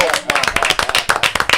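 Quick, rhythmic clapping from a live audience at a Spanish-language political talk or rally, a short burst of brisk, fairly loud hand claps with speech mixed in.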